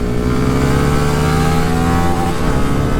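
A Honda Beat 130cc underbone motorcycle engine revs hard on a racetrack, a loud, continuous, close-up drone that holds steady throughout.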